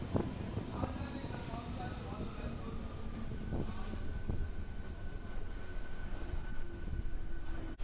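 A local train runs at platform 1 of Santragachi station on the South Eastern line near Kolkata, giving a loud, steady rolling rumble with clanks and faint voices mixed in throughout.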